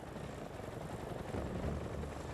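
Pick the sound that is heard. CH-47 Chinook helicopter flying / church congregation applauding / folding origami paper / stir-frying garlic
CH-47 Chinook helicopter flying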